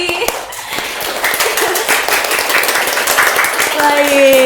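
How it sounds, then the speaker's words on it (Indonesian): A small group in a close podcast studio claps by hand in quick, bright bursts while people keep talking over the applause. "Mungkin tepuk tangan untuk Semagi TV."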